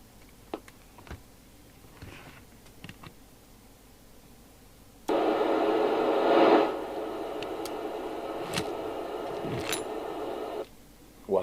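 Repaired Commtron CB40F 27/81 MHz FM CB radio played through an extension speaker: a few faint clicks at first, then a steady loud burst of hissing static for several seconds that cuts off abruptly.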